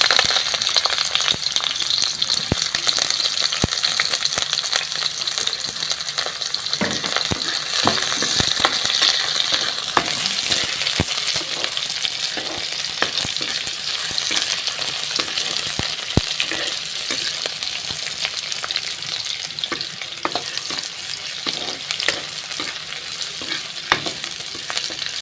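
Onions fry in a pan for pork curry, a loud, steady sizzle close by, with frequent sharp clinks and scrapes from stirring throughout.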